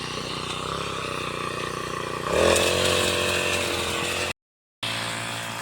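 A grass cutter machine runs at a steady buzzing drone, then revs up louder, harsher and higher as it cuts, with a brief drop to silence near the end, close by and without talk.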